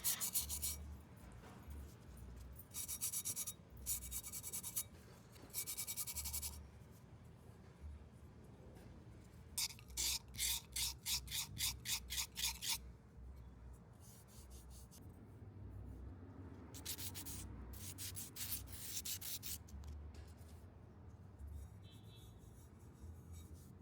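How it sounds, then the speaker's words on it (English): A fired ceramic cup's surface is sanded smooth after the first firing, giving soft rasping strokes in several bursts, including a quick run of short rhythmic rubs, close and fairly quiet. "After the first firing, I like to sand the surface to make it smoother"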